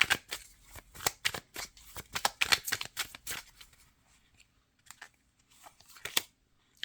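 Tarot cards are shuffled in rapid riffling, slapping bursts, close and crisp, then a few softer isolated snaps and slides as cards are drawn, with quiet gaps between and no talking.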